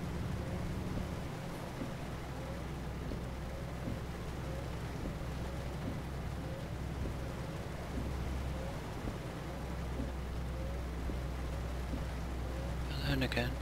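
Steady broadband rain hiss in Euro Truck Simulator 2 (Go East DLC) with a low truck engine drone beneath, continuous and even throughout, with a voice talking over it.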